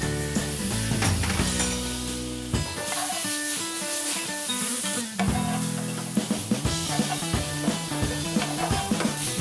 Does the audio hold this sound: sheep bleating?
no